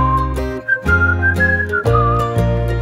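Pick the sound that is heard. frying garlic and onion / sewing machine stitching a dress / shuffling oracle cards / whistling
whistling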